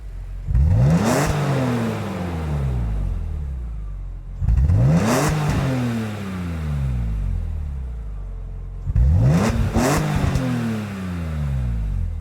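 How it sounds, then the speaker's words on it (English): A 1997 BMW M3 engine in a racing video game revs three times in succession, each rev climbing sharply in pitch and then falling away, loud and close, with steadier engine drone between the revs. "The BMW M3 1997 model. 34k in credits then. Let's have a listen to the car."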